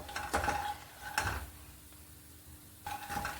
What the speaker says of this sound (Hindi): 1 से 2 मिनट के लिए हमें मखाने को फ्राई करना है मीडियम फ्लेम पर।